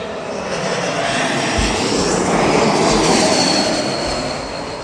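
A Swiss Airbus A220 airliner taxiing at an airport, its engines giving a loud, swelling whistling howl that rises and holds steady over a broad roar, close by and alone.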